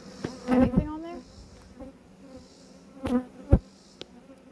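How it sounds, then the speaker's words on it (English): Honey bees buzz near a beehive, with individual insects flying close past the listener in a few loud, wavering drones separated by quieter humming and small knocks. "I'm wondering if you have robber bees in this hive."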